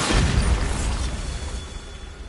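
A Bombarda explosion spell goes off in Hogwarts Legacy, a loud close blast with a heavy low rumble that slowly fades over a couple of seconds.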